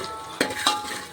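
Onions frying in a pan with salt for mutton curry, a soft steady sizzle broken by two brief scraping stirs of a utensil close by.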